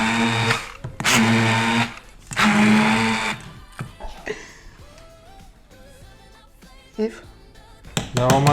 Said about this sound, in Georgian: დავაბლენდეროთ ხაჭო, რომ მივიღოთ თითქმის კრემის ნერა.